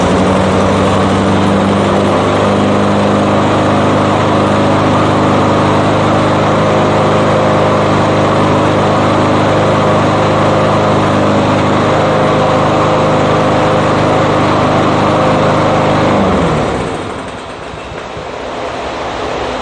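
A Cub Cadet riding lawn mower's engine runs loud and steady at close range in a workshop with an exhaust fan going, a droning hum with smoke from a flooded cylinder, then cuts off abruptly near the end.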